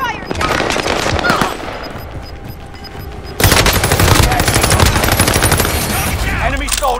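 Heavy gunfire in Call of Duty Warzone, rapid machine-gun bursts that jump to a loud, sustained stream of close shots, with a faint voice briefly underneath.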